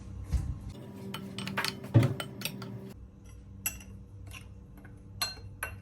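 Batter for banana fritters (pazham pori) is mixed in a bowl with a spoon, making quiet scrapes and irregular light clinks of metal against the bowl.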